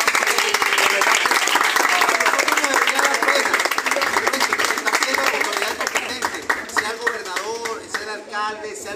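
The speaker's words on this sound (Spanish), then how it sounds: "Vamos a dar un aplauso a todos." A crowd of entrepreneurs at a public gathering in Barinas breaks into sustained, dense applause, steady and loud at first, then thinning out as scattered cheers and voices rise near the end.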